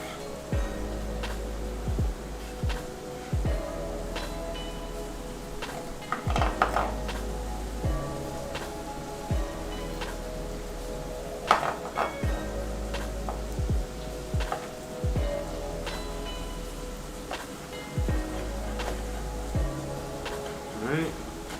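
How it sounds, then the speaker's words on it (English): A knife dices tomatoes for pico de gallo on a cutting board in a home kitchen, giving steady, rhythmic chopping thuds close by over a quiet room background. "So we're just gonna dice, these tomatoes,"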